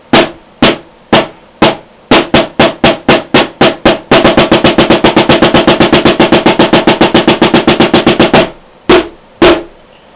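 Drum hits played alone on a speed metal practice kit, loud and close, starting as evenly spaced single strikes, doubling in pace, then breaking into a dense rapid stream before returning to a few spaced hits.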